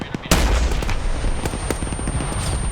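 In a military shooter game, a rocket launches with a sudden loud blast, followed by scattered gunfire and rumbling battle noise.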